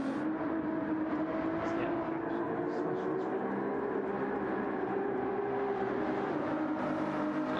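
Ferrari 296 race cars lap Circuit de Spa-Francorchamps in a sim racing game, giving a continuous steady engine drone that sits under ongoing commentary throughout.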